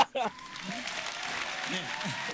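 Crowd applause and cheering at Ubisoft's E3 2017 show, filling the hall steadily after a brief voice at the start, with more talk murmuring faintly beneath.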